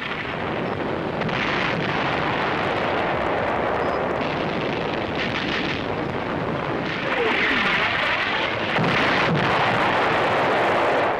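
WWII artillery fire in the North African desert of Algeria and Tunisia, heard as a steady, dense rumble of distant gun reports with broadband booms swelling louder toward the end, unbroken by any speech.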